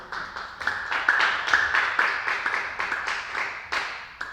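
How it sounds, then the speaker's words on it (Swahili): A church congregation claps in a steady rhythm at about two claps per second, close and moderately loud, with no voices heard. "Simpige makofi"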